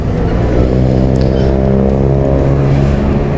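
A sports car passes on a busy city road, its engine revving with a loud, steady growl close by that dominates the scene with no talking.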